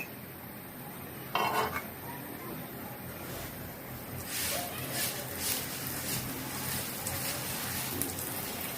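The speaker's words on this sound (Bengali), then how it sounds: "এখন আমি তেল দিয়ে ভেজে নিব" Aloo paratha frying in oil in a pan, with soft spatula and pan clinks early on, then a faint, continuous sizzling hiss that swells slightly as the oil spreads.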